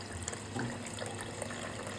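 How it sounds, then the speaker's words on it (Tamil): Water pours steadily into a cooking pot with a continuous splashing gush, close and unbroken. "இப்போ இந்த தண்ணியை மொத்தம் அஞ்சு கப்பு ஊற்றணும்"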